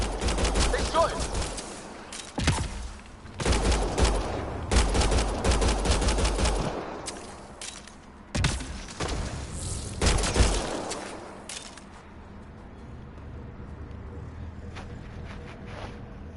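Volleys of gunfire in Mass Effect Andromeda crack out in clustered bursts of rapid shots separated by brief pauses, loud at first, then the firing stops and a quieter ambience remains.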